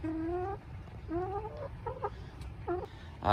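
Chickens on a roost in a coop cluck in short, choppy bursts several times, close by, with a steady low farmyard rumble underneath.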